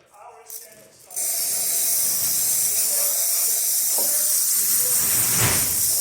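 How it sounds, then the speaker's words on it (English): The steam wand of a Profitec T64 espresso machine being tested bursts into a loud, continuous hiss after a brief quieter moment, holding steady to the end with faint sounds beneath. "let me just test also the steamer"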